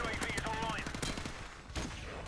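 Rapid bursts of gunfire from Call of Duty Modern Warfare Remastered crackle close and loud in quick succession, with a voice talking over the shooting.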